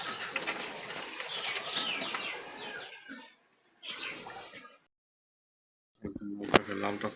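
Wild Jalali pigeons from Dhaka flap their wings as they are released, a close, dense fluttering burst that fades, then a quieter flurry and a final brief flap after a pause.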